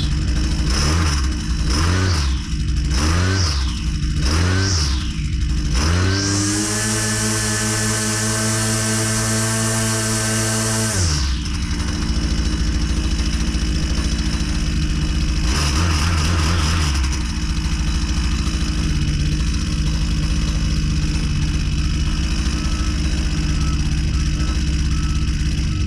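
A Husqvarna 122C chainsaw engine runs steadily after a carburetor lean-out, revving up through a sustained high-RPM whine for several seconds, then dropping back to a rough, loud idle with another brief rev later.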